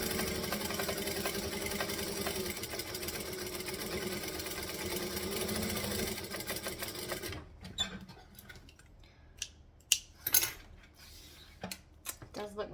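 Sewing machine stitching the outer seam of an Isolina quilt, a steady close mechanical whir running for several seconds, then stopping, followed by scattered clicks, taps and handling noises.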